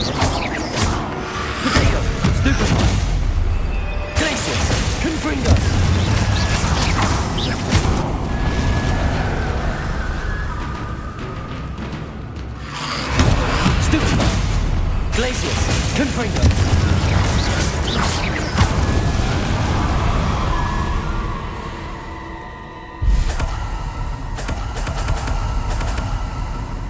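Confringo fire spell blasts in a Harry Potter video game, heavy booming explosions landing at intervals over a continuous bed of loud game noise and music.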